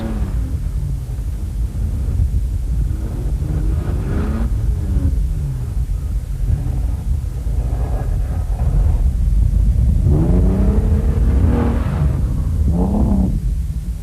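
Rally car engines rev and strain in thick desert sand during the 1992 Rallye de Tunisie, rising and falling in several loud bursts over steady wind rumble.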